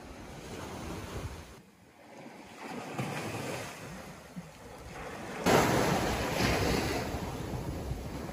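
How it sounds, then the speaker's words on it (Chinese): Ocean waves break on an empty beach, a continuous rushing surf with a brief lull, then a louder swell of wash, mixed with wind buffeting the microphone and no talking. "哇，这大海好吓人呢。"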